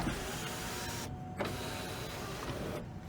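A power sunroof motor on a 2001 Honda Accord EX whirs steadily inside the car's cabin, running as a continuous close hum with a couple of brief stops and restarts and no talking.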